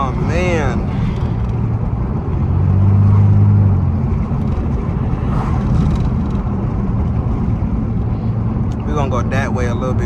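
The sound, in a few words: Pontiac Grand Prix GT exhaust with muffler deleted, driving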